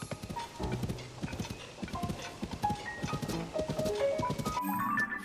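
Horse hooves galloping in the Tears of the Kingdom video game, a quick steady clip-clop rhythm at close range layered over game music and ambient sound, with no speech.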